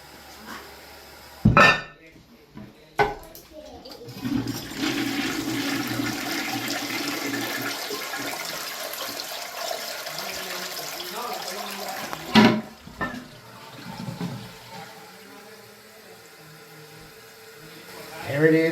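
A toilet tank refills through a new fill valve: a sharp clack, then a steady rushing hiss of water running for several seconds before tapering off, close by, with a couple of knocks and brief speech.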